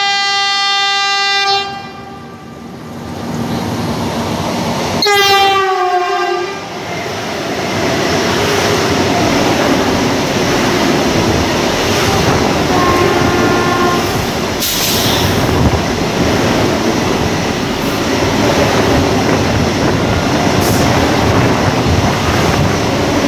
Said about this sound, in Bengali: দূর থেকে আসছে, আর এই ট্রেনের প্রথম ক্রসিং